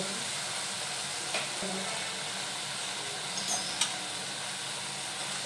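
Spinach leaves sautéing in a pan for a creamy spinach soup, cooked down with salt and black pepper, giving a soft, steady sizzle with a couple of faint clinks and stirs throughout.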